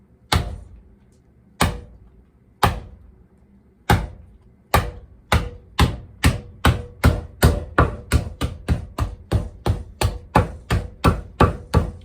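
A tomahawk chops through a deer carcass with sharp, near, loud blows, at first spaced slowly, then quickening into a steady rapid series of about two dozen strikes.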